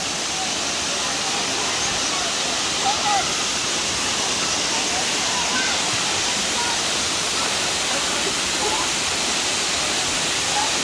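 Steady, loud rush of Balagbag Falls in Real, Quezon, a broad continuous roar of falling water filling the whole stretch, with faint voices of bathers mixed underneath.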